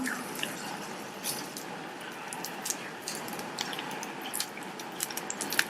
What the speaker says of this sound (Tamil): ஒவ்வொரு பீஸா எடுத்து மாவுல டிப் பண்ணி எண்ணெயில சேர்த்துக்கலாம்.